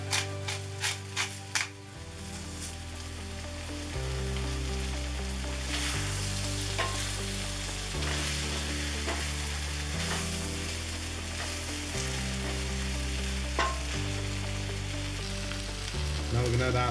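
Mongolian beef, seasoned with salt and black pepper, stir-fries in a cast iron skillet with a loud, continuous close sizzle and occasional stirring scrapes, with music playing underneath.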